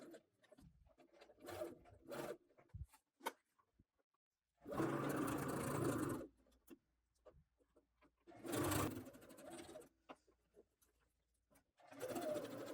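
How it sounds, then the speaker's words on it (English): A sewing machine stitches a spaghetti-strap dress around the pocket bag toward the hem, running in three loud, steady bursts separated by quiet pauses filled with small handling clicks and rustles. "Then turn the dress around and stitch from that stitch down around the pocket bag"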